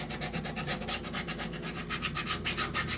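Steady, rhythmic abrasive rubbing as the sole of a Louboutin shoe is scuffed to roughen it, quiet and close, with no talking.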